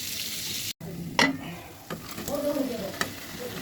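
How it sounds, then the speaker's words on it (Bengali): Chicken pieces frying in a pan as they are stirred with spices, a bright continuous sizzle broken by the scrape and clatter of the spatula, with one brief dropout partway through. "ভাজা মাংসটা একদম মশলা কষাই দিয়ে দিলাম"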